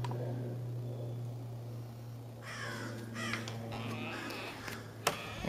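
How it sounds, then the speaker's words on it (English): A crow caws several times at a distance over a low steady hum and faint outdoor background. "There's a crow."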